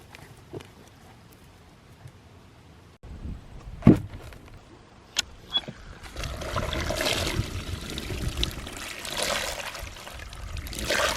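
After a few sharp knocks and clunks, water begins pouring steadily into a pig feeding tray on pasture, a continuous splashing rush that lasts several seconds.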